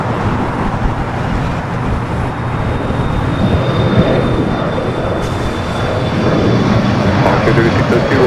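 An airliner arriving at LAX from JFK, its engine roar a broad, steady wash of noise that swells slightly toward the end, close and loud throughout.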